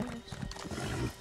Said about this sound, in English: Now let's get on a horse